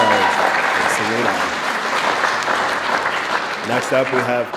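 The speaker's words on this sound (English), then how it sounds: "Give her a round of applause." Steady applause from a crowd at a graduation ceremony fills the clip, with a voice speaking over it near the end.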